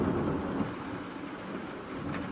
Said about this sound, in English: Lightning flashed as the storm closed in.